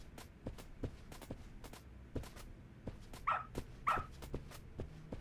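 A dog in the video game Lost Judgment barks twice in sharp bursts midway, nearby, over a steady run of quick footsteps.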